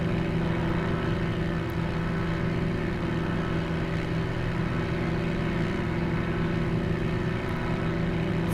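Steady, loud drone of an Edgley Optica aircraft engine during takeoff and climb in Microsoft Flight Simulator, a continuous propeller hum that holds level throughout with no voices.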